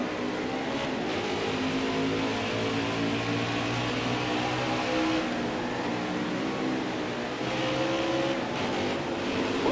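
Race cars in NASCAR Heat 5 at Watkins Glen accelerate out of a turn, a steady dense engine roar with layered whining tones from several cars running close together, loud and continuous throughout.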